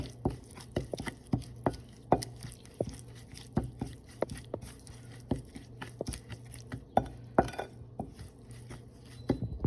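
Oil, turmeric and pepper powder being stirred together into a masala for karimeen fish fry, giving a steady run of light scraping clinks and taps of a spoon against a bowl, close and fairly quiet, with no talking.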